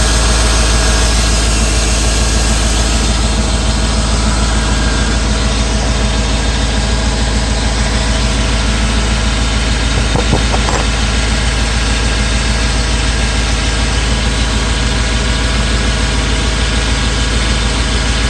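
A Chevy V8 engine idles with a steady, smooth rumble, continuously at a constant low pitch, with a faint brief tapping partway through.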